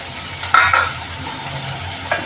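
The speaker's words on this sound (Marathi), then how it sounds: "बटाटा पण त्यावर चवचवून घेऊया" Potato pieces stirred into an onion- and garlic-free vegetable curry in a pan, a soft sizzle under a few scraping spoon strokes against the metal, close and alone without talk.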